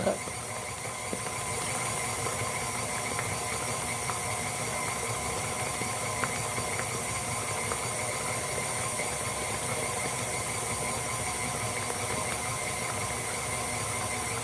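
Electric stand mixer beating American buttercream at medium speed setting 4, a steady continuous motor whir with mechanical rattle and hiss holding even and close throughout, no talk.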